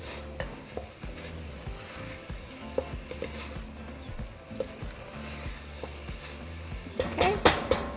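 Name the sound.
minced garlic sizzling while stirred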